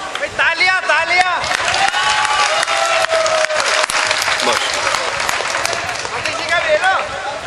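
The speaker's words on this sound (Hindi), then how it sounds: "तालियां तालियां।" Audience applauding at a mushaira poetry gathering during an Urs event, dense sustained clapping with crowd murmur and cheering, while voices call out over it throughout.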